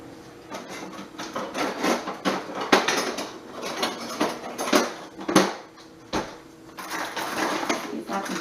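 Kitchen utensils clatter and scrape as a drawer of tools is rummaged through in search of a small spatula, irregular close knocks and rattles with a voice speaking intermittently between bursts.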